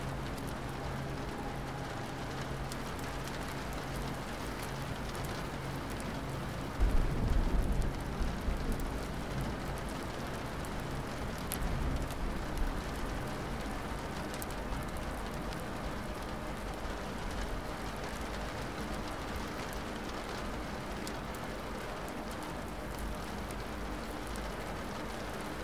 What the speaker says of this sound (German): Auch das Prasseln der Regentropfen begleitet dich.